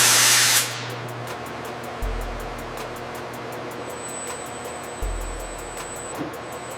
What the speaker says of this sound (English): Watch the starboard valve, we have a steam leak.